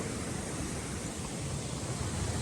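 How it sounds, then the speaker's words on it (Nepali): Steady, broadband rushing roar of a waterfall feeding a natural swimming pool, muddy water after rain, constant and enveloping with no breaks or voices. "झर्ना"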